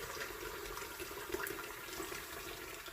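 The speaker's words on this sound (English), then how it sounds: "we pop this saucepan under some cold water to drain" Cold water runs steadily from a tap over a saucepan of beans in the sink, a soft, constant wash with no talking.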